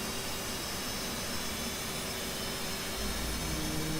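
An F/A-18C jet engine spooling up in DCS World, a steady broadband roar that thickens with a low rumble near the end, heard alone with no talk.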